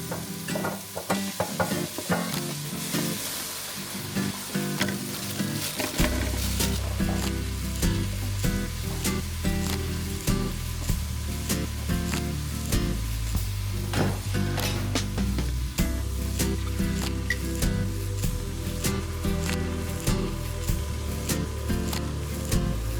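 Chicken breast pieces sizzle steadily in a hot pan, with stirring scrapes and crackles throughout and no voices.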